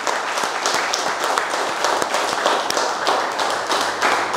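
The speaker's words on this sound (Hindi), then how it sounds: "तालियां रुकनी नहीं चाहिए," A team applauds at a real estate group retreat, with dense, sustained clapping from many hands and a few sharper individual claps rising out of the steady wash.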